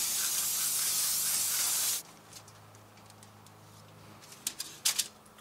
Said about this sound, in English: So we're gonna spray some spray adhesive down.